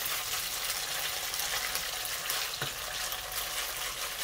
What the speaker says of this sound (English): And leave them to fry for a while before we turn them over.